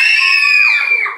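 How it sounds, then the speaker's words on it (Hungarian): Children in the audience of a magic show for kids scream together on cue, a shrill, loud group shriek lasting about a second and fading at the end. "Neki kérünk egy sikítást."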